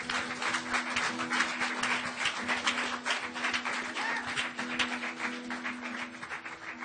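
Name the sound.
congregation applause at a church service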